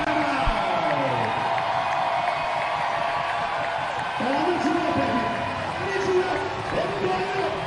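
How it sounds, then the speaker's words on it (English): Crowd noise in a basketball arena during a pro game timeout, a loud sustained roar with cheers and whoops rising in waves, mixed with music or announcer tones and some voices. "Would you listen to that crowd?"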